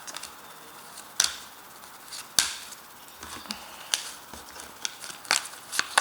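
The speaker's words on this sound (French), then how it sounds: "Alors je sors mes petites cartes de couple, les balances en couple. Donc je vais tirer 3 cartes." Playing cards are drawn from a deck and laid down, giving several sharp, close snaps and flicks spaced irregularly over quiet room tone.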